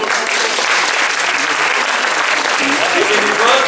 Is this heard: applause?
yes